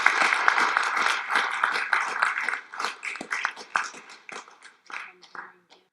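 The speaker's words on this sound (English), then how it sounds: "can we all just give him a round of applause?" Audience applause from a crowd closing a Q&A session at an evening talk, dense clapping that thins and tapers off toward the end.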